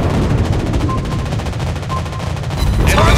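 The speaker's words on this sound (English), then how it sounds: "Anti-aircraft gun on full alert!" Anti-aircraft guns on a Tier 6 Soviet cruiser, the Admiral Makarov, in World of Warships Blitz firing in a rapid, steady stream of loud, close bursts that continue without a break.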